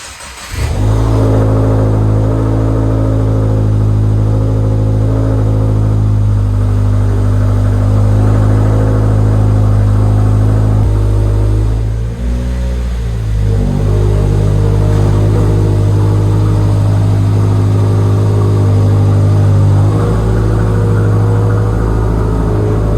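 A 2022 Subaru WRX with a muffler-delete exhaust starts up and runs with a loud, steady engine note. A brief dip in the middle is followed by continued rumbling idle and light revving for about twenty seconds, with no talking.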